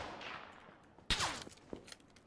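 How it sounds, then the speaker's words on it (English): Gunfire in the video game PUBG or CSGO: a sharp, loud burst of shots cuts in after a quieter stretch, followed by a few scattered nearer cracks and impacts. "2 people are shooting at me right now."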